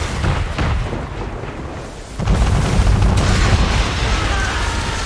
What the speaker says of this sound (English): We're under attack! Men of war firing!